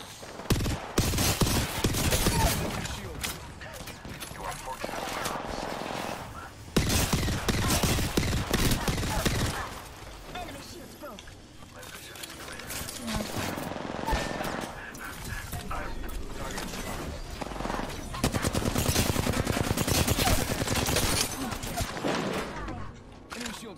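Spitfire light machine gun fire in the battle royale shooter Apex Legends, sustained rapid bursts rattling loudly through a chaotic firefight, broken by brief lulls, with a voice talking over the action throughout.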